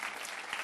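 A brief burst of audience applause for a federal deputy guest on a Brasília talk show, dense clapping heard faintly and held steady for under a second.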